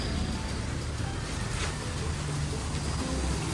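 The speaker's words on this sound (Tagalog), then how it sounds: "dito napakalakas ng ulan" Heavy storm rain in South Korea during summer, a dense, steady wash of downpour that holds level throughout with no break.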